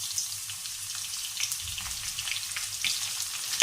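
Green chillies frying in hot oil for kadhi pakoda, a soft, steady crackling sizzle with scattered pops, close but fairly quiet, ending in a brief louder clatter.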